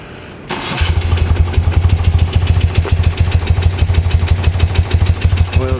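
A 1972 BMW R60/5 motorcycle engine starts with a sharp burst, then settles into a steady, low, rhythmic idle with even pulsing beats, loud and close, alone.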